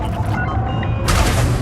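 A rapid salvo of spaceship weapons in Elite Dangerous, dense crackling bursts over a deep rumble that grows louder and brighter partway through.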